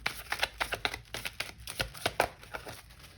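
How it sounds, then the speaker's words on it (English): Old tarot cards, stiff from having gotten wet, being shuffled close up in a quick series of crisp riffling slaps and flutters, irregular in rhythm, with no talk over them. "So they're kind of hard to shuffle."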